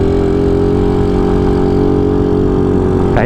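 Motorcycle engines labor on a mountain road during a moto-hiking trip: a loud, steady droning engine tone with strong harmonics holds close and unbroken, without voices.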